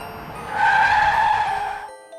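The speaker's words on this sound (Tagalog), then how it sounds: "kaya napahinto ang sasakyan nila" A car brakes to a sudden stop on a road, tires screeching in a loud, sustained skid that swells and then cuts off abruptly.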